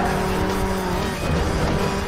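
A race car in Burnout roars at speed with tire squeal and skidding as it slams into traffic, a loud, continuous engine drone with scraping noise throughout.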